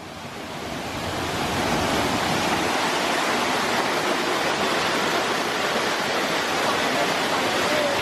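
A waterfall swollen after heavy rain roars steadily nearby at a tourist spot near Pattaya, a dense, unbroken rush of water with no talking.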